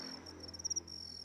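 Farmed crickets chirping in a breeding setup, a steady high trill with a few louder pulses, faint and alone without any voices.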